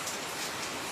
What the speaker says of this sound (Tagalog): Ayan, lakas ng ulan.